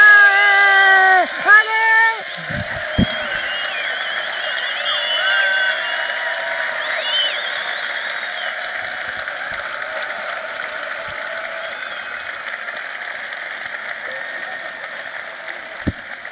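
Audience applause at a French company celebration's best-newcomer trophy vote, sustained and fairly loud for over fifteen seconds after a voice at the start, with a few louder claps and some crowd noise mixed in.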